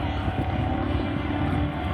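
Aerobatic airplane at the Warbirds Over Monroe air show, a steady engine drone holding at moderate distance without a break.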